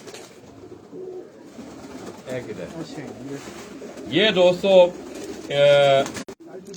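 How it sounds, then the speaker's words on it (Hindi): Pigeons coo in soft, low, throaty calls under someone talking, then two louder rolling coos stand out near the end. "शर्मीले कबूतर हैं, उनका कुकरास है इनका"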